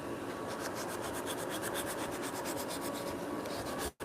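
Wooden dovetail rungs being sanded by hand in a workshop: a steady, close, continuous rasping rub in quick repeated strokes that runs without pause until a brief break just before the end.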